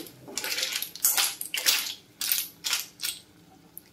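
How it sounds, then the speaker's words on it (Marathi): Clams and kokum are mixed gently in a pan for Malvani tisrya sukka, giving a series of about seven rattling, clattering shell scrapes in uneven bursts, close and fairly loud, without talk. "पुन्हा एकदा हलक्या हाताने मिक्स करून घेते"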